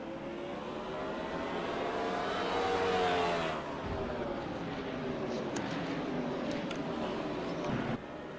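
Race cars roar past on a short oval track at the MOCS Clash at Southern National, engines rising and falling in pitch as they sweep by close and loud, with a faint voice underneath.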